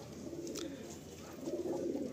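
Small short-sized pigeons, a bred pair of the family's own generation, coo softly and steadily close by, a low rolling murmur with a brief brighter note partway through and no talk.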